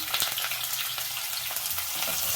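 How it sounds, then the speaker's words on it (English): Onions hitting hot oil give a loud, dense sizzle of frying, continuous and close with scraping stir sounds throughout. "My oil is hot, so I'm going to put in my onion"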